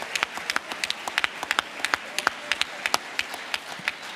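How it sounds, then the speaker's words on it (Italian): Audience applause at the Barcolana Sea Summit energy and climate session: a modest crowd's scattered, uneven claps, each crack distinct rather than merging into a wash, moderately loud and steady for several seconds. "un applauso se volete"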